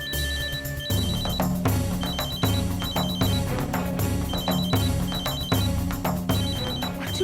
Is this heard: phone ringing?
yes